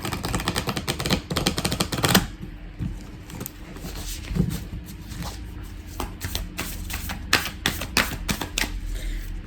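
Starseed Oracle cards being shuffled and drawn, heard as close, continuous riffling and flicking with sharp card snaps, louder in the opening seconds and then settling into steady shuffling.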